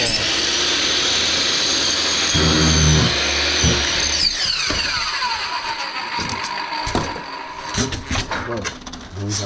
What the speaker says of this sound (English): Chop saw. Cut the tail off.